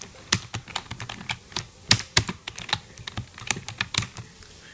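HTML code is typed on a computer keyboard, a close run of irregular crisp key clicks and clacks in quick bursts with brief pauses, with no speech.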